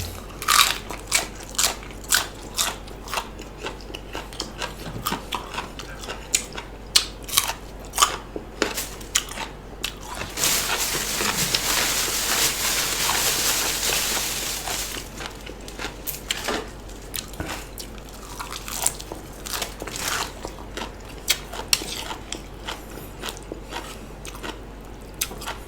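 Close, repeated crunchy bites and chewing of noodles with chicken and bitter melon, sharp crackling snaps coming in quick irregular bursts, with a denser rustling stretch midway and no talking.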